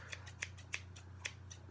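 Several crisp scissor snips in quick, slightly uneven succession, close and fairly quiet over a low hum.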